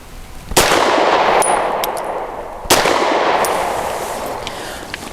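Two sharp pistol shots from a Grand Power P1 Ultra ring out a couple of seconds apart, each followed by a long reverberating tail, with faint metallic tinkles of ejected brass between them.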